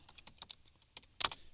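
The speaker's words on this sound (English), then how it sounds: "So I'm going to go ahead and type script." Light, quick keystrokes on a computer keyboard, a short run of soft clicks closing in a louder cluster of taps, close and alone without speech.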